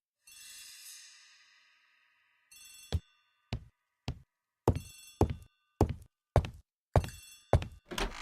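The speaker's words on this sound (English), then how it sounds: "The telephone in the hall is ringing." A telephone out in a house hallway rings with a bright, metallic bell trill. A steady run of sharp, evenly spaced rings or knocks follows, each short and loud in a quiet room.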